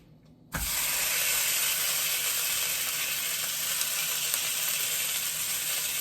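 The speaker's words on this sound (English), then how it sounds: "drop it in the pan on that particular side, and then oil it while it's searing on the other" Sous vide pork chop dropped into a hot oiled pan, bursting into a loud, steady sizzle that holds evenly after a brief quiet start.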